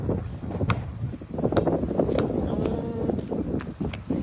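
Gusty wind roaring against the microphone with scattered clicks and knocks during outdoor basketball, a few brief voices breaking in over the blustery noise.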